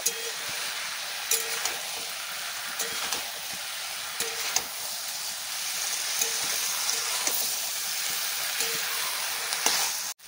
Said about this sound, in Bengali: এবার আলুর সঙ্গে আরও 1 মিনিটের মতো ভালো করে ভেজে নেব।